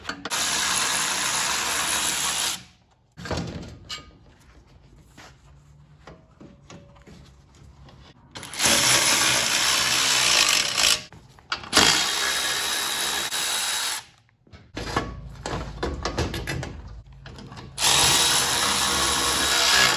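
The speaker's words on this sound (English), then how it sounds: "We're gonna remove one single bolt, and then we're gonna transfer these pieces over." A radiator side mount bolt is spun out with a 12mm socket on a power ratchet during a Nissan radiator swap, heard as several loud bursts of whirring and ratcheting with short quiet gaps between them.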